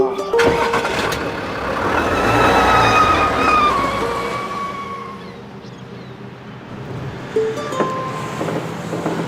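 A car is driven with a steady engine drone and road noise that swells and fades, with a few sharp clicks and knocks, and people talk quietly inside the vehicle.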